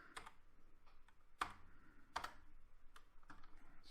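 Computer keyboard keys are pressed, including backspace, while a circuit board layout is designed: a few quiet, sharp clicks spaced irregularly, with soft gaps between them in a still room.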